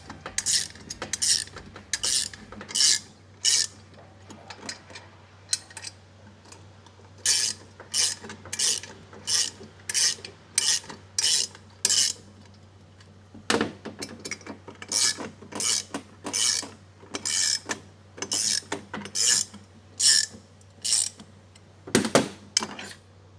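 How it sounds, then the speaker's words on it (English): A hand ratchet tightens bolts on a paperpot transplanter during assembly, giving repeated quick clicking bursts in a steady back-and-forth rhythm, close and clear over a low background hum. "tighten it down using your 1/2-inch tools. I've got a ratchet and like a socket screwdriver"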